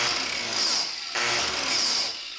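A grinder-type polisher buffs a customized BMW S1000RR aluminum motorcycle fuel tank with rouge, giving a loud, steady, close whine that dips briefly once or twice under varying pressure.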